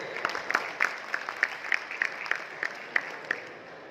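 A small audience at a launch of the Inverex Veyron series inverter claps, a thin, sparse scattering of distinct hand claps at a fairly quiet level.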